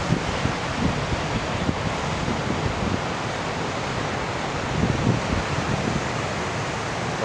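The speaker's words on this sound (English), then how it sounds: "lots of big waves out there off the end of the tide pools" Big ocean waves breaking off the rocky tide pools and sea stacks of Shi Shi Beach on the Olympic Coast, a steady broadband roar of surf with wind buffeting the microphone, no voices.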